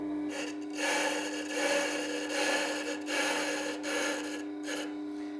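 A truing tool cuts across the stone of a WG250 wet stone grinder, a rough rasping scrape that swells and fades in repeated strokes over a steady motor hum.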